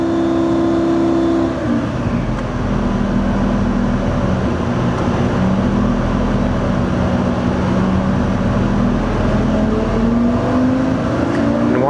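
A twin-turbo, E85-fuelled Lamborghini Superleggera engine runs loud and steady on a dyno at about 4000 RPM. It makes a constant droning roar that shifts slightly in pitch as the ignition is tuned under low load.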